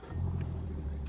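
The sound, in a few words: 90 hp Evinrude E-TEC outboard engine starting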